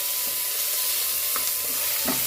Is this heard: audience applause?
no